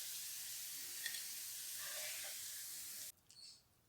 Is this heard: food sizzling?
yes